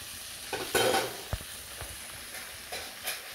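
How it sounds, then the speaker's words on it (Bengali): Chicken pieces fry in a pan, giving a soft, steady sizzle with a few brief scrapes and knocks from stirring, one louder rustling burst near the start, fairly quiet and with no talking. "যতক্ষণ লাল না হবে ততক্ষণ ভাজা হবে না।"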